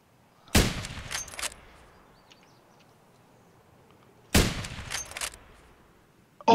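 Gunfire in Escape from Tarkov, two separate bursts of sharp, loud shots several seconds apart, each a quick cluster of cracks that fades into quiet in between.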